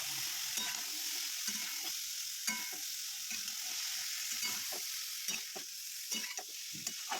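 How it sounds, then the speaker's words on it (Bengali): A cauliflower filling with ground cumin and peas, cooked for stuffed bitter gourd, is stirred and fried in a pan: soft sizzling under repeated, rhythmic scraping strokes of a spatula, close by and without talk. "তার মধ্যে আমরা দিচ্ছি জিরের গুঁড়ো আর কটা মটরশুঁটি দিয়ে ৫ মিনিটের জন্য নাড়াচাড়া করতে থাকবো।"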